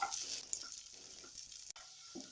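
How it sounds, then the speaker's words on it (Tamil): Capsicum and onions sautéing in oil, giving a soft, quiet sizzle with faint stirring taps and a brief click near the end, with no voices. "இந்த எண்ணெயிலே வந்து இதை நல்லா வதக்கி விட்டுக்கப்புறோம்"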